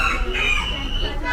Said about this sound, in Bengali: Red jungle foul.